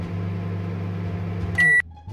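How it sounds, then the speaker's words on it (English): A microwave heating a bento in a convenience store video game hums steadily at low pitch, then gives a single short, loud beep before falling quiet. "Microwave the bento."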